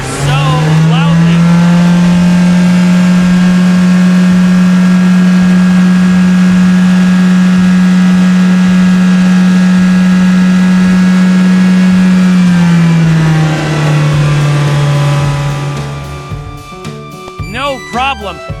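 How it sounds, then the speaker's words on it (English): A loud, sustained engine roar holds a steady pitch for several seconds, then drops lower and fades as a voice starts speaking. "Next is the yellow sports car. Its engine roars so loudly."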